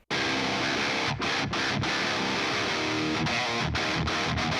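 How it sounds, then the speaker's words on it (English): Heavy metal rhythm guitar from an Ibanez through a 5150 amp, dense palm-muted chugging with brief choked gaps, loud and continuous with no voices. "So this is the Mayanez with the 5150."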